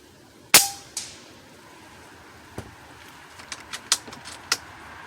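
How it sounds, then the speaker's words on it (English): Air rifle pellets from a .25 caliber Hatsan Flashpup firing 33.95-grain JSB King Heavy slugs strike a lead plate downrange: one sharp clang, then a scatter of fainter, distant metallic pings and ticks at uneven intervals. "And you can just hear them hitting that plate from down here."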